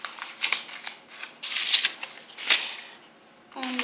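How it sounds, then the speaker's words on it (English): Scissors snip through folded paper in a quick series of crisp cuts, with light rustling of the paper between them, close and fairly quiet. "you have to take the scissors and you have to cut it"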